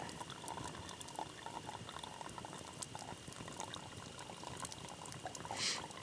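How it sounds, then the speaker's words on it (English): Water pours and bubbles steadily into a vessel while being strained, a soft continuous gurgling trickle heard up close with no talking. "Gotta pour it a little bit slower."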